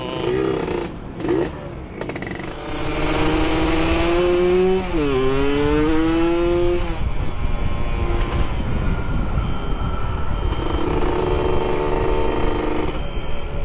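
A road race motorcycle fitted with a Killer Whale exhaust revs up, its pitch climbing and sliding through several throttle sweeps, then settles into a loud, steady raspy drone close by.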